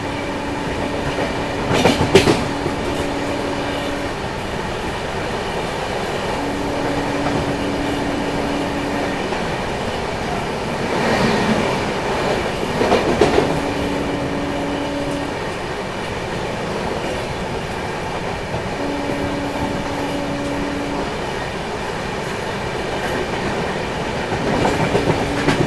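The Darbhanga Sampark Kranti express runs at speed through Basti station in Bihar with a loud continuous rumble and rhythmic clickety-clack of wheels over rail joints, with repeated tonal squeals and a few heavier bangs.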